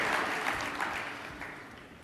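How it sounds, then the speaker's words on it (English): A group in an audience applauds the assistants, a short burst of dense clapping that gradually fades over about two seconds. "Give him a round of applause, his assistants."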